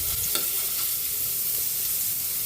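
Garlic sizzling steadily in hot oil in a pan, a dense continuous crackle with a faint clink of stirring near the start, close and fairly quiet with no talking.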